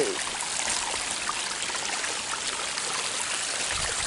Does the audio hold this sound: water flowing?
yes